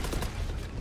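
Burst of gunfire during a Valorant esports match, dense and continuous across the short moment, loud and close with no clear gaps between shots.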